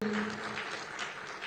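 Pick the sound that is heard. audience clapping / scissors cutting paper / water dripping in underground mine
audience clapping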